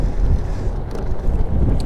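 Strong wind gusting across the microphone on a cool riverside walk in Wilmington, North Carolina, a steady loud rumbling buffet with no clear pauses.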